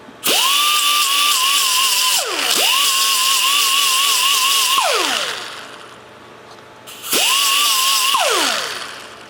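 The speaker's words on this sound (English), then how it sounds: "instead of filing, I found this little grinding disc, works a little better" A small grinding disc on a high-speed tool cuts metal for a homemade overhead-valve Briggs engine, whining steadily in three long bursts, each spinning up sharply and winding down with a falling pitch between cuts.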